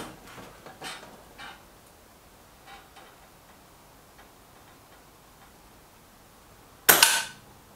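A single sharp, loud air rifle shot from a Kral Puncher Maxi or Reximex Pretensis cracks close by near the end, after several faint clicks and ticks over quiet background, with no talking.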